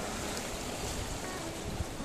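Continuous wash of surf breaking on a beach shoreline beside an old coastal fort in Teluk village, Pandeglang, Indonesia, with wind rushing over the microphone.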